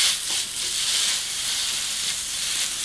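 Thinly sliced cheesesteak meat sizzles steadily on a hot grill, a dense, even frying hiss that carries on alone without pause.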